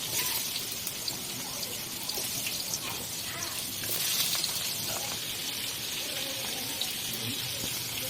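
Hilsa fish frying in a kadai, a steady rain-like sizzle and crackle that runs continuously at moderate volume, with faint voices in the background.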